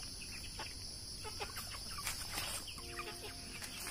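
Chickens clucking, a run of short, quick clucks and cackles close by, layered over a steady high insect-like whine and low background hum.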